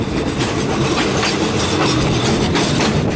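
Train pulling out of Hat Yai junction on the Hat Yai to Surat line, heard close with loud continuous rolling rumble and quick rhythmic clickety-clack of wheels over rail joints, no voices.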